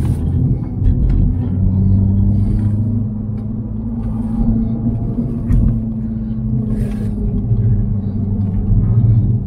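A MINI car drives over dips and elevation changes, its steady engine and road rumble loud and close from inside the cabin throughout, with no talking.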